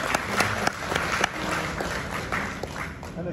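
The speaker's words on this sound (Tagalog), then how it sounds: "So, palakpak tayo." A crowd at a brunch gathering of Philippine car enthusiasts claps steadily, with a few sharper individual claps standing out over a constant background murmur.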